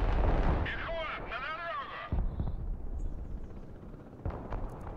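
Heavy artillery booms and explosions from the video game Broken Arrow, a loud low-end blast at the start followed by rumbling impacts, with someone talking over the barrage.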